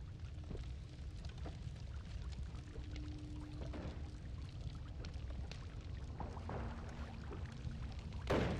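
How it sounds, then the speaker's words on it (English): Steady, continuous rush of running water in a video game, a dense broadband wash with a low rumble underneath, holding an even level throughout with a few faint clicks and a brief louder swell at the very end; no voices. "I hear water running somewhere."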